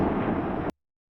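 A firework recording slowed down and heavily saturated into a deep explosion effect, with boosted low end and a low-passed top: one dense, roaring, rumbling blast sustained loudly for about 0.7 seconds, then an abrupt cut to silence.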